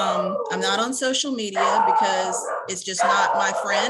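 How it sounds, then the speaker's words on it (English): A pet dog barks, howls and yips loudly right beside someone who is talking, the whining cries overlapping and drowning the speech in bursts. "Sorry about my loud dog."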